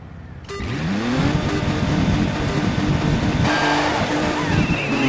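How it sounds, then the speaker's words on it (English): Several rally cars roar off the line together at a race start in DiRT 3, engines revving hard and continuous, loud and close with a steady surge of engine noise throughout. "The race has begun, and Ruben has a pretty good launch, going on the inside of Richie"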